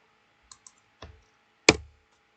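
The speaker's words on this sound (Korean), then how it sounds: "자식 레벨을 또 탭키를 눌러서" A computer keyboard's Tab key is tapped in a few separate close, crisp clicks, two light taps and then a heavier keystroke, in an otherwise quiet setting.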